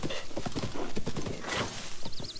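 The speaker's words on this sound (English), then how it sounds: "Oh, that's my horse. Oh, horse, you scared the living jump macaroni out of me." Horse hooves clip-clop steadily in the Zelda video game, a close, even rhythm of hoofbeats with a whinny near the end, no talk over it.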